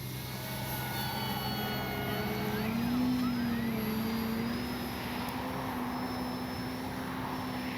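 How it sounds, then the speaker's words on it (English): FMS PA-18 Super Cub 1700mm RC model plane flying aerobatics, its steady electric motor drone rising and falling in pitch as it passes overhead, continuous and fairly distant against open-air background. "Good flying plane."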